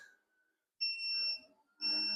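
Electronic interval timer during a light-intensity weighted EMOM workout gives two loud, sustained high-pitched beeps separated by a short gap, heard alone in a quiet room.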